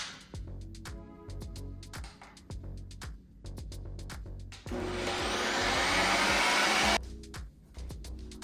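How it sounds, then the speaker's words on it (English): An ice cream maker churning on its light ice cream setting, with rhythmic mechanical thumps and clatter, then a loud steady whirring roar for a couple of seconds before the knocking pattern returns. "make the ice cream using the light ice cream setting"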